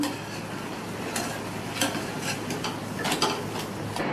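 Idli batter kunukku fritters sizzle steadily in hot oil, close and continuous, with occasional soft scrapes and clinks as the pieces are turned, and no one talking.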